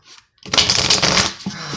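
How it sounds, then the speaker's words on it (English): A deck of tarot cards is shuffled by hand in a quick riffling burst lasting about a second, close and crisp, followed by a soft tap as the cards settle; no talking. "going to shuffle 2 more times."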